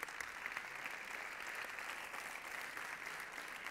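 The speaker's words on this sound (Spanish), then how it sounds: "les despedimos con una fuerte ovación" A large audience at a sports awards gala gives a loud, sustained ovation, dense applause filling the hall evenly from start to finish without speech.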